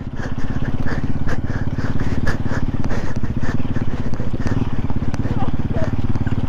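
A quad ATV engine while driving, a steady loud rumbling putter throughout, close by, with people talking over it.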